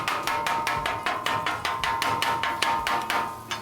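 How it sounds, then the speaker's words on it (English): Eggs are beaten in a bowl with a utensil for campsite breakfast burritos, a steady run of about fifteen quick, sharp, evenly spaced clacks, close and fairly loud. "Now what you do, beat them up."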